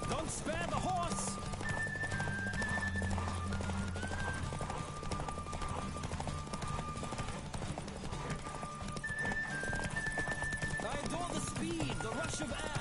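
A horse gallops in a race in The Witcher video game, with rapid rhythmic hoofbeats running steadily throughout, occasional whinnies, and a voice speaking over the ride.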